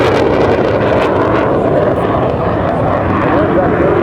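An F-100 Super Sabre jet at an airshow, its engine a loud broadband roar and whine that holds steady throughout at close range, with no clear winding down.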